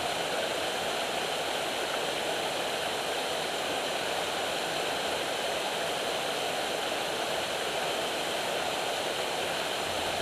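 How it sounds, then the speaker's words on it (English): A steady, broad roar of a large waterfall in the Blue Mountains, water falling over a protruding semicircular rock mass, constant and unbroken throughout, heard from a moderate distance. "The water falling over and around a great protruding semicircular mass of rock gives it a very striking appearance"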